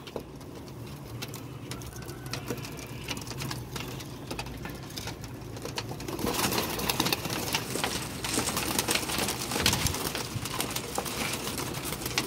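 Pigeons in a kept flock give soft, low murmuring coos amid rustling and fluttering, close by and fairly quiet, growing busier partway through.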